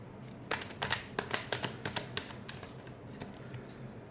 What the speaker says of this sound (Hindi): जेमिनी के लिए लास्ट शफल